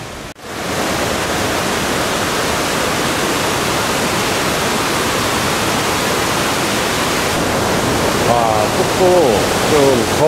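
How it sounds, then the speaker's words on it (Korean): Large multi-tiered waterfall at Si Phan Don in southern Laos, a dense, steady roar of falling water that fills the scene at close range and stays constant throughout, with no voices over it. "안쪽에 들어오니까 폭포 소리 바로 들리네요."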